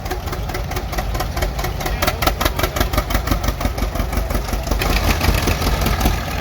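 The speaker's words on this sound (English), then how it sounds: "And here comes a John Deere with later model fenders on it." A John Deere tractor pulling a plow across Palouse farmland chugs with a steady, rhythmic, fairly close engine beat that stays even throughout, with no voices.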